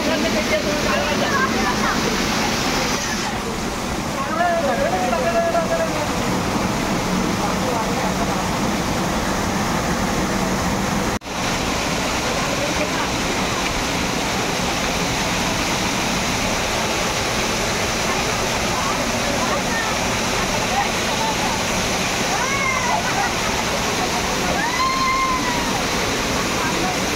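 A Konkan waterfall thunders steadily and loudly close by, a churning, sloshing wash that never lets up. Occasional brief speech surfaces faintly beneath the roar.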